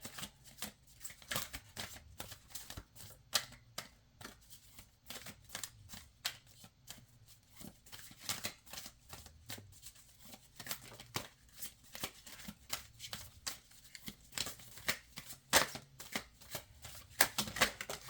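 Oracle cards are shuffled by hand in a long run of rapid riffling bursts and soft slaps, close and fairly quiet, with brief pauses between bouts.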